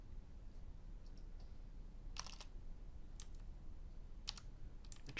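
An IP address being typed on a computer keyboard: a few brief clusters of light key clicks, faint and spaced apart over steady background hiss.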